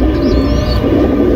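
Tagged domestic pigeons cooing close by, a loud, soft continuous coo with faint chirps over it and no talking.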